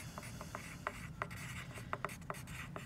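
A pencil scratches on paper during a kindergarten math lesson, with short, soft, brisk strokes and light taps in an irregular rhythm, close and quiet, and no one speaking.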